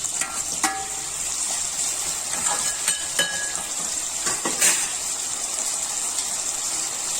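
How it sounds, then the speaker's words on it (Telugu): Chopped tomatoes fry in a pan for a village-style gongura paneer curry, a continuous loud sizzle broken by sharp clinks and scrapes of a spoon stirring against the metal pan, with no talking. "ఇప్పుడు టమోటా వేసుకుందాం."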